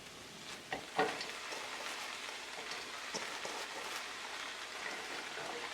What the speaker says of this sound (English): so here's where we're going to go in with the chopped up and washed cabbage.